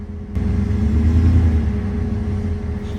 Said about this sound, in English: Sorry if you can't hear me over the engine. It's a pretty loud one.